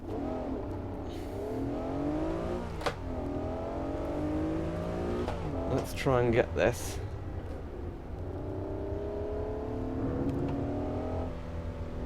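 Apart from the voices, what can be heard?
Honda NSX engine revving at Imola in Assetto Corsa video game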